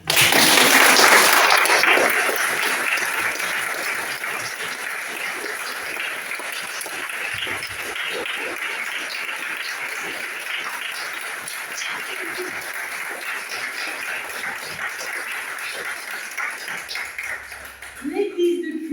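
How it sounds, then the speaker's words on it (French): A church congregation applauds during an online French-language Sunday service. A dense burst of clapping opens loud, then settles into a long, softer, steady applause. Brief sounds of movement near the end. "on peut l'applaudir."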